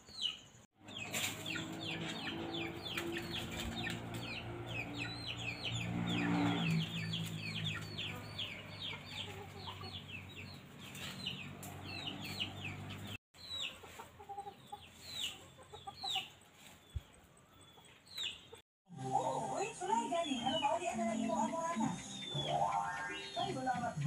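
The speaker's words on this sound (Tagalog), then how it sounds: "Chickens. Chickens." Chickens cluck repeatedly near and mid-distance in a farmyard, steady rhythmic clucking over background noise, with a couple of abrupt cuts and a brief shift in setting near the end.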